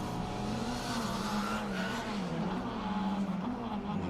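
A Citroen C3 Rally 2 rally car on a stage, its engine droning steadily at a distance with rising and falling revs, heard faintly and continuously throughout.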